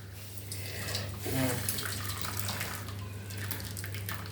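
Hot cooking water is poured off boiled green plantain in a home kitchen, a soft continuous splashing pour over a steady low hum, fairly quiet throughout.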